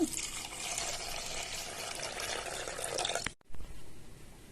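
Rice-washing water pours steadily into a pot for sambar, a continuous close splashing gush that stops abruptly, followed by a brief clunk and quieter trickling.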